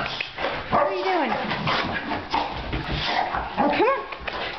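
A Staffordshire Bull Terrier and a Boxer growl, yip and whimper in playful scuffling, with loud close barks and people talking over them.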